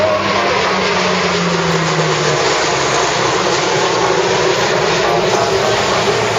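A Lockheed C-130 Hercules makes a low pass at the Great Lakes International Airshow: a loud, steady broadband turboprop roar fills the whole stretch, with a droning engine tone sliding slowly downward in the first half.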